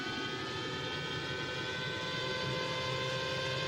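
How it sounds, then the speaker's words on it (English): A 2001 CART race car engine heard onboard, a loud continuous drone that dips slightly as the throttle is feathered and then rolls back on, steady throughout with no talk. "You can hear he's flat here on the entry of 1, then feathers the throttle a little bit, rolls the throttle back on."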